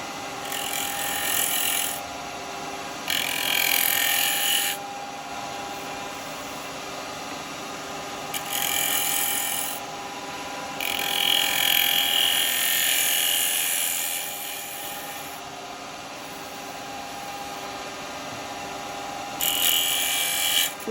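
A wood lathe spins a small pot while a spindle gouge cuts into it, giving a constant motor hum with several bursts of harsh hissing shaving noise as the tool engages and lifts away.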